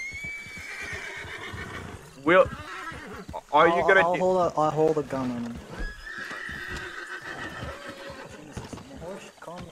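A horse neighs and whinnies loudly in several bursts, close by, with hoof clip-clop, while someone talks tensely over it.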